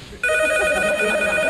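A telephone bell bursts in abruptly and rings loud and close in a continuous trilling peal. It rings alone with no voices over it.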